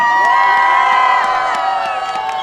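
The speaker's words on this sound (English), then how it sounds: "So have a great round of applause for the brave Iranian women." A crowd at a rally of Iranians in Canada cheers and shouts loudly, sustained whoops and voices with scattered claps throughout.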